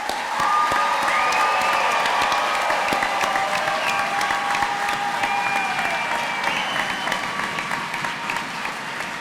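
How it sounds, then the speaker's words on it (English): A large crowd at a college commencement ceremony applauds graduates continuously, dense clapping with some cheering mixed in, sustained and fairly loud throughout. "One more round of applause."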